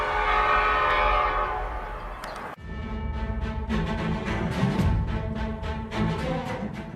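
A train rumbles past at a level crossing, its horn blaring loudly in a long steady blast at the start before the heavy rolling clatter of the cars takes over close by.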